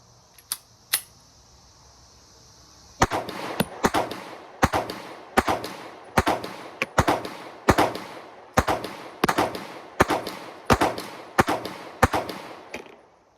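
A Smith & Wesson Shield Plus pistol fires a long series of sharp, loud shots at a fairly even pace, each with a short ring, after a couple of quieter clicks at the start.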